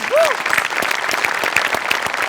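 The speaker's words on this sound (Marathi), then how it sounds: "सगळ्यात आधी सचिन मोटे आणि अभिजित पवारसाठी जोरदार टाळ्या" Enthusiastic applause from a studio audience at a Marathi comedy show, dense continuous clapping throughout with a brief cheer at the start.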